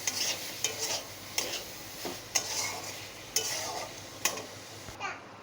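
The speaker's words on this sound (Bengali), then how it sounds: "লবণটা দিয়েও খুব সুন্দর করে কষে নেব।" Goat meat scraps stir-fried with salt in a pan, a steady close sizzle broken by regular scraping strokes of a spatula roughly every second, with no voices.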